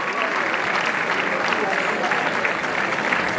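Steady, dense clapping from an audience carries on without a break, loud and close, a continuous wash of many hands with no clear gaps or individual claps standing out.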